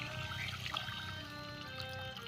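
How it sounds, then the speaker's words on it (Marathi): Hot water poured into fried masala in a pan over a wood-fired stove, a short close trickling pour with a light bubbling sizzle underneath, fairly quiet and brief. "आता यामध्येच ना आपण गरम पाणी करून ठेवलं होतं ते टाकून घेऊया."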